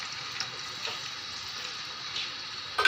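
Half a bowl of oil heating in a pan with two onions added for a white chickpea curry, giving a steady, even sizzle with faint crackles throughout, no one talking.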